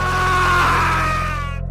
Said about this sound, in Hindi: अचानक मैंशन के अंदर से किसी आदमी की एक जोरदार दर्दनाक चीख गूंज उठी।